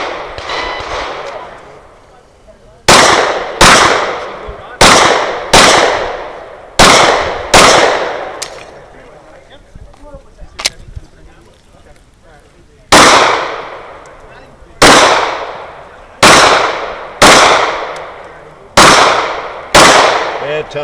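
Pistol shots fired during an IDPA classifier stage with a barricade and reload, loud close reports in quick pairs, two groups of six separated by a pause, with brief talk before.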